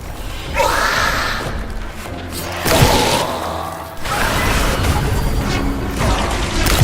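Gunfire in the Warhammer 40K typing video game: loud booming shots and crashing impacts come in several bursts with whooshes between them, close and dense throughout.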